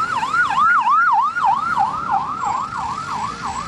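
An ambulance siren at a road-blocking protest, wailing in a steady rising-and-falling cycle, loud and close throughout with faint traffic noise beneath.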